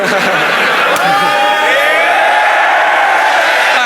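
A loud crowd at a rap battle roars, whoops and cheers continuously, a dense wall of voices with shouts rising out of it throughout.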